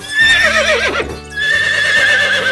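A horse gives a loud, close whinny with a wavering pitch, then a second shorter neigh after a brief dip, standing clear with no talk.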